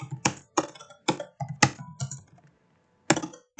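A computer keyboard is typed in short, evenly spaced bursts of sharp, close clicks, with a brief pause before a final flurry and no voices.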